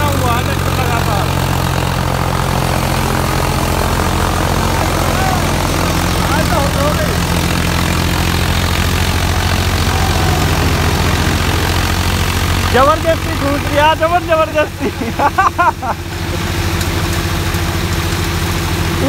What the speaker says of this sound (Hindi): ये देखो अपना 1800 पे बना हुआ है ट्रैक्टर लगातार।